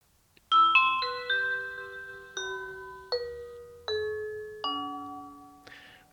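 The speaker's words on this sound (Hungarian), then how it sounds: "ő is kap egy audio visszajelzést arról, hogy a csengő megszólalt" A Ubiquiti G4 Doorbell Pro PoE chime plays a clear, ringing melody of about eight bell-like tones, each note sustaining and fading into the next, with no voices.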